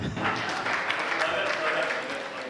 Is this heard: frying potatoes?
no